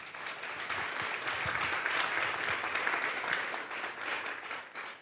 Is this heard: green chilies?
no